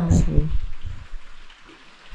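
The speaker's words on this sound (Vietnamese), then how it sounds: "Chúng được ở trong nhà thì cũng đã nghe thấy tiếng mưa rất là nhiều" Heavy rain heard from inside a house, a steady broadband hiss, with a voice speaking briefly over it at the start.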